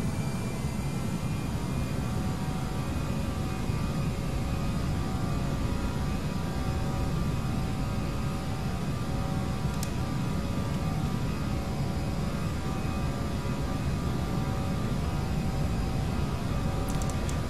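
Airliner engines at takeoff thrust in a flight simulator on the Vienna to Innsbruck route give a steady, loud, broadband roar with a constant hum, unbroken for the whole stretch.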